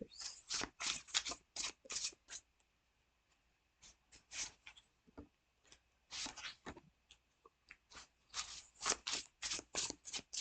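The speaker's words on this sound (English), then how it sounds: "Let me pull out the cards first." Reading cards are pulled out and shuffled in repeated quick riffling bursts, close and crisp, broken by short pauses with no talk.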